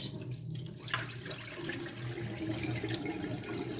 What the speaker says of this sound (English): So then I tip the water